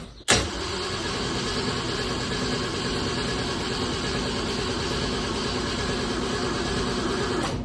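A vehicle engine cranks steadily with empty fuel bowls and a suspected failed fuel pump, a continuous, even churning that starts abruptly and holds at a constant level without catching.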